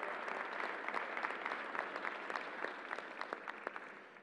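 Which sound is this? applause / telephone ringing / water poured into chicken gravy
applause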